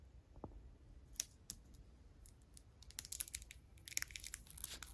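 A small piece of plastic wrapper, pulled from the port of a JBL 8-inch subwoofer, is handled close by, giving faint crinkles and sharp clicks that grow busier and denser toward the end, with no voices.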